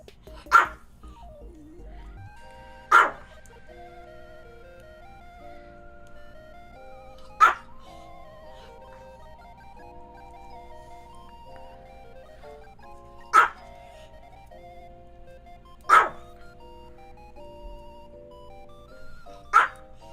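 A dog barks six times in sharp single yelps spaced a few seconds apart over a steady indoor background with a faint musical tone.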